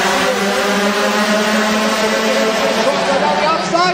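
A pack of racing karts in an IAME European Series race at Mariembourg, engines droning and rising together in a sustained, loud buzzing whine, with a commentator talking over it throughout.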